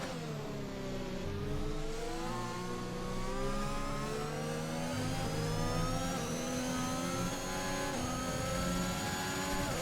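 Racing car engine in F1 2021, British GP, suffering a severe engine issue, revs continuously with a loud, steady whine that slowly climbs in pitch, close and unbroken for the whole stretch.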